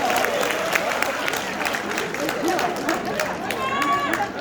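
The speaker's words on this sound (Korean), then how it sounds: "네, 박수." An audience at a party members' rally claps and cheers in a dense, steady wash of applause with crowd voices mixed in, and one person talking through it.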